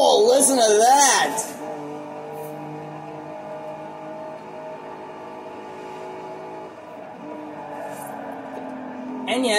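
A 2019 Hennessy Velociraptor 6x6 driven onto a racetrack in Forza Horizon 4 gives a loud revving burst for the first second and a half, then settles into a quieter steady engine drone that swells again at the very end.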